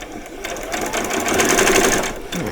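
A sewing machine runs a back stitch while making veterinary scrubs, a steady close motor whir with rapid needle rattle that holds for a couple of seconds before briefly easing off.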